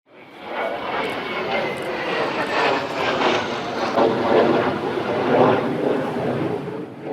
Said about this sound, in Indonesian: dengan 2 unit pesawat tempur jenis F-16 milik Skuadron Udara 16